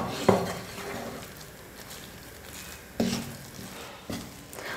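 A thick, ground chana dal dough mixture being stirred in a pan for poli: three distinct scraping strokes with quiet stretches between, close and clear.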